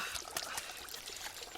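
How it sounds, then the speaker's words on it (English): Water trickles and bubbles steadily from a little fountain spilling out of a mossy cliff, a continuous close splashing flow with no voices. "there they found a mossy cliff with a little fountain bubbling out of it"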